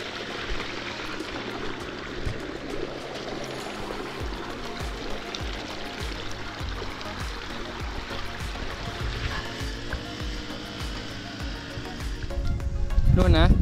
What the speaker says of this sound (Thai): น้ำแบบไหลลงไปไปเรื่อยๆลงไปไหนก็ไม่รู